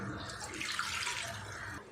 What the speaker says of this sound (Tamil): பேனில் நூடுல்ஸ் வேகிற அளவுக்கு நம்ம தண்ணி ஆட் பண்ணிக்கலாம்